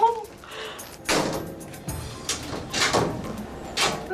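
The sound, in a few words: screen door being opened after lock bumping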